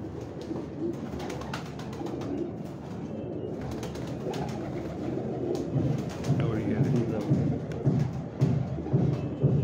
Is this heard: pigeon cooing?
yes